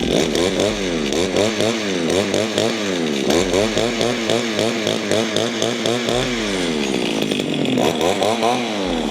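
The small two-stroke petrol engine of an ECHO SRM-2305 brush cutter revs up and down repeatedly, close and loud, with rising and falling pitch as the throttle is worked.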